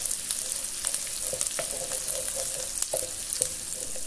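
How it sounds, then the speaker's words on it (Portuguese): Bell pepper sautés in a Philco electric pan with a steady bright sizzle and hiss, broken by a few stirring scrapes and clinks close by, and no talking. "Agora eu vou deixar aqui refogar mais um pouquinho."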